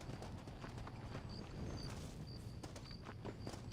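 A horse's hooves clip-clopping at a walk in the Red Dead Redemption video game, soft rhythmic steps over an ambient outdoor bed.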